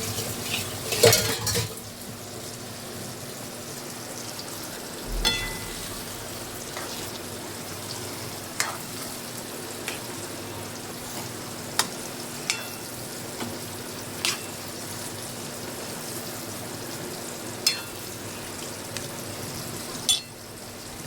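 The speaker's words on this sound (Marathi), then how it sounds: "ही मच्छी आपण टाकू. मसाल्यासोबत फ्राय होईल मच्छी पण मस्तपैकी." Fish frying in a masala in a pan, a steady soft sizzle with occasional clinks and scrapes of a utensil against the pan, no talking.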